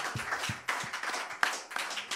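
Sparse audience clapping after a live music interview segment in Zurich, a few distinct irregular claps and taps with gaps between them, fairly close and moderately loud.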